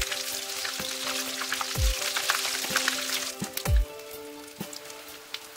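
Chickpea cutlet patties shallow-frying in a pan, a soft continuous sizzle punctuated by sharp pops and crackles and a couple of louder thuds as they are turned.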